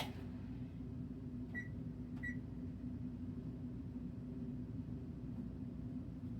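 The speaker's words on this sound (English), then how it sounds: "I'm going to set my timer." A kitchen timer being set to one hour gives two short, quick electronic beeps close by, a little under a second apart, over a steady low hum.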